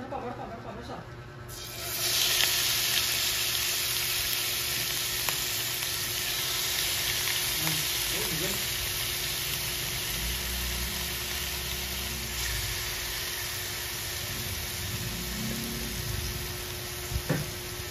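Pork strips fry in a pan over medium heat, giving a steady broadband sizzle that runs close and continuous with a few faint clinks and scrapes.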